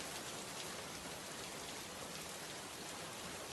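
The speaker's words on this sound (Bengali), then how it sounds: "সারা দিন একরকম বৃষ্টি হয়ে আসছে" Steady, even rain over flooded village fields hisses continuously, a soft wash of falling drops with no voices.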